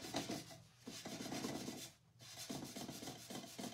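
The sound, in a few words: burnishing an Alice in Wonderland transfer down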